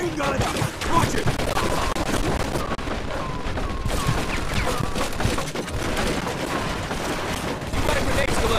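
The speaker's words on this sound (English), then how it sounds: "Looks like we found the machine gun! Watch it!" Machine gun fire in the 1940s crime game Mafia II, sustained loud chattering bursts and explosive cracks throughout, with shouting voices and battle noise mixed in.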